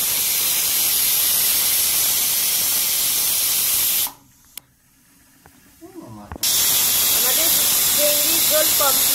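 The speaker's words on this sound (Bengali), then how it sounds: "যার যতটা প্রেশার কুকারের সিটির প্রয়োজন হবে, তবে একটু বেশি সিটি দেবেন" A pressure cooker vents steam while cooking spiced mutton trotters: a loud, steady rushing hiss that cuts out abruptly for a couple of seconds, leaving a faint quiet gap, then bursts back at full strength.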